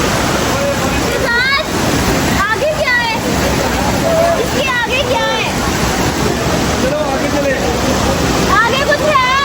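A roaring hillside waterfall on a mountain hike fills the scene with a steady, loud rush of falling water that never lets up, while people talk and call out over it.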